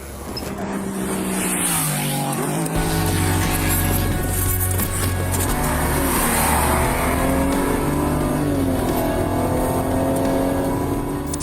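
A motorcycle engine revs hard and roars past at very high speed beside a police car, a loud continuous whine rising and falling in pitch as it accelerates.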